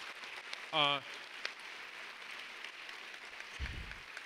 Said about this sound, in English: Let's give him another round of applause for that great opening